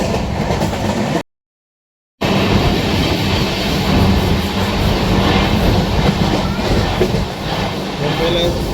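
A fast metro-type commuter train near Mumbai runs at speed with a loud, continuous rumble and rattle of wheels on rails. The sound cuts out for about a second early on.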